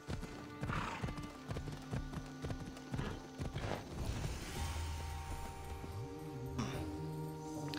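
Horse hooves in Assassin's Creed Odyssey, irregular clip-clop steps with a neigh partway through, close and fairly loud, no talk.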